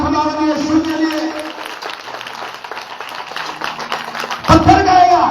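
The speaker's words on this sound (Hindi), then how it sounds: "यीशु मसीह के नाम में जोर से ताली खुदावंद यीशु के लिए" A congregation at a prayer meeting in Bilaspur claps loudly together in praise of Jesus, a dense burst of applause beneath a preacher's voice and music.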